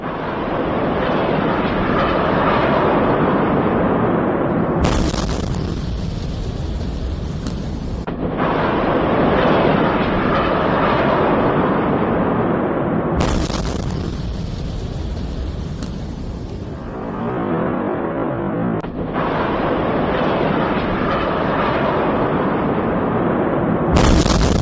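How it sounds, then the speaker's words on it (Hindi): Iranian missile strikes hitting Tel Aviv, Israel: a continuous loud roar of blasts and rumbling, broken by several abrupt bursts of harsher, crackling noise, with no voices. "इजराइल के तेल अवीव पर ईरानी मिसाइल गिरने की ये तस्वीरें हैं"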